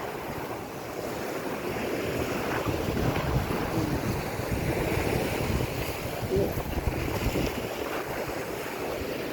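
Strong sea waves pounding the shore in bad weather near beached fishing boats, a continuous heavy roar of surf mixed with gusting wind buffeting the microphone, loud and steady with no talk.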